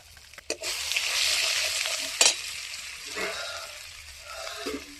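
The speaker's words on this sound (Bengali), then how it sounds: "মশলাটা একটু কষাতে হবে।" Ground cumin, turmeric and coriander sizzle and fry in a pan with a little water while being stirred, a steady close hiss broken by a few sharp scraping clinks.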